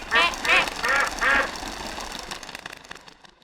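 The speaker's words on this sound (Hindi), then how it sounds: "अब उड़ेगी तो सिर्फ डैडी के अंदर बैठी बत्तख" A duck quacks four times in a quick, loud series close by during a comedy show scene, followed by a fainter tail of room noise.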